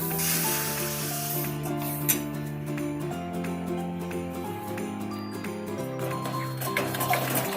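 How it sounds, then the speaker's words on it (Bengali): Water poured into semolina for luchi in a cooking pot, a steady hissing pour lasting several seconds, close and fairly loud, under background music without talk. "এইবার আমি 2 কাপ মতো জল দিয়ে দেব"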